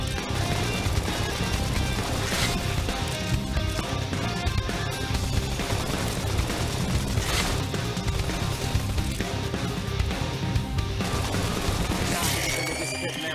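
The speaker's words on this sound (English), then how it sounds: "Zap them over with gunfire!" Rapid bursts of gunfire crackle over a dense, busy background of game action and effects in Xenoblade Chronicles X on Wii U, with occasional sharper cracks standing out.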